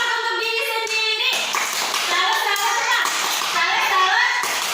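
Young children clap for themselves in a classroom, quick scattered claps under lively kids' voices, starting after a brief spoken line.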